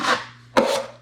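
Patching compound is spread over a hole in a wall with two short, close scraping strokes that have a gritty, rubbing texture.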